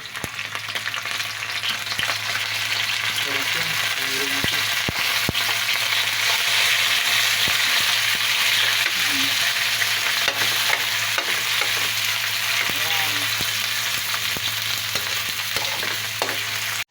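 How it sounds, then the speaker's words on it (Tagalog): Pork sautéing in a pan for mung bean vegetable stew: a steady, loud sizzle runs throughout with intermittent scraping and stirring clatter, no voices. "Gigisa ko na yung baboy."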